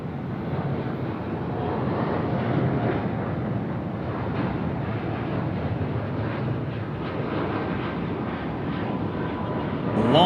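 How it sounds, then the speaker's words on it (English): An Air India Boeing 787-8 jet takes off at night from Sydney Airport, a steady broadband engine roar holding loud and even throughout, swelling slightly near the end. "Long and lean departure there from the Boeing 787 dash 8"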